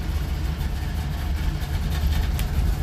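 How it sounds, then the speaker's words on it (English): Steady low drone of an old DKW two-stroke car engine while driving on a cold December day, continuous and even with no talking. "All right, so we're driving the old DKW"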